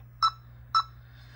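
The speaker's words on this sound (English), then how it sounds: "The beeping is pretty loud." Two short electronic beeps about half a second apart from an OMBAR 4K dash cam, fairly loud and clear over a low steady hum.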